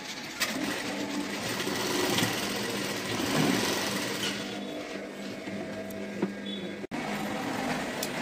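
A sewing machine stitches a salwar pant, a fast mechanical whirring run that rises and eases, ending in a brief pause and a short restart.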